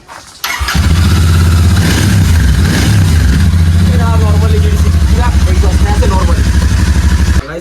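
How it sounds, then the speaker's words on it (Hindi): A Royal Enfield GT 650 motorcycle engine without its exhaust fires up and idles with a deep, loud exhaust rumble, blipping the throttle in repeated revs, close by. "तो अभी सुनाएगा एग्जॉस्ट का साउंड कैसा होता है GT 650"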